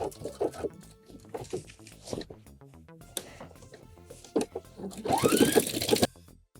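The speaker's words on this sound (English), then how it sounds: "When I get to the crotch seam, I always like to add a little extra back stitch here for reinforcement." Sewing machine back-stitching the crotch seam of wide-leg pants, with short stitching bursts running among handling noises and a louder, denser sustained run near the end.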